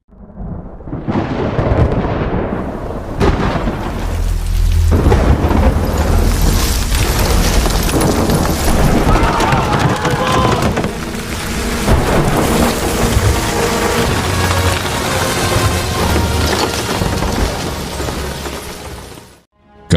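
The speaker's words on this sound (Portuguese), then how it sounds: "o Senhor fez vir trovões e granizo, e raios caíam sobre a terra" A dramatized thunderstorm with hail over Egypt unfolds as loud rolling thunder booms over heavy, pounding rain and hail, continuous and close for the full duration, with crackling impacts and no talk.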